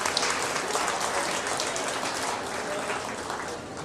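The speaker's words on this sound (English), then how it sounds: "let's give a nice round of applause to these seniors, your first class" An audience applauds a senior cattle showmanship class at a 2024 PCLA beef show, dense continuous clapping that stays fairly loud throughout and fades slightly at the end, with no voices.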